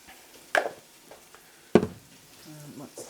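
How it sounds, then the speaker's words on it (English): Onions, carrot and chilies hitting a hot pan for tomato soup: two sharp bursts of sizzle a second apart, each fading quickly into a soft background hiss, close and moderately loud. "onions, carrot, and chilies. Just throw that in there for the tomato soup. And saute that for a bit."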